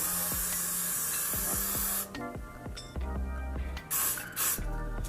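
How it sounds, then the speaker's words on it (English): Repeated short hissing bursts of a Got To Be spray glue can, sprayed in quick pulses around a hairline for a lace wig, with brief pauses between, close and fairly loud. "take your Got To Be glue, and you're just gonna spray around the perimeter of your head"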